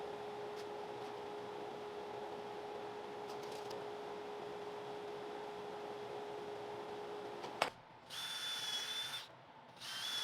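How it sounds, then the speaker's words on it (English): Power drill boring holes for drawer pulls in a wooden drawer in a workshop, a steady motor whine that stops abruptly, followed by short bursts of high drilling noise; close and alone. "Then I just drilled out the holes."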